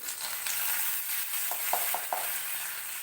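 Curry leaves dropped into a hot pan with the flame switched off while making chicken curry, giving a steady hiss and sizzle with a few faint spatters and pops.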